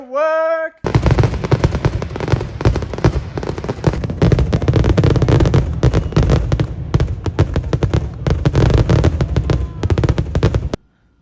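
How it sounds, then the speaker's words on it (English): Fourth of July fireworks crackle and pop continuously for about ten seconds in a loud, dense, rapid barrage of bangs, after a brief voiced sound at the start. "I'm gonna go watch me some fireworks."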